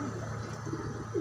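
Pigeons in a family group cooing softly at close range, low repeated coos over a steady background hum, no talking.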